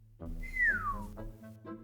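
A single descending whistle, clear and close, sliding down in pitch, followed by soft low murmuring.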